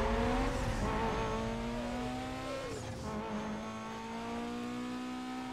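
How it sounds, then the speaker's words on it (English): Race cars roar and rev in Need for Speed: Most Wanted, one engine sounding rough and uneven, with pitch sweeping up and down through gear shifts and tires squealing at moderate volume. "Why did that guy's engine sound like it was beatboxing, bro?"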